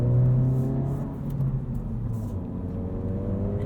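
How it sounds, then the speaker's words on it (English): A 2022 Honda Civic Si sedan's engine, heard from inside the cabin, falls from a higher rev to a lower hum, a steady droning whir that eases off without hanging. "revs drop pretty immediately"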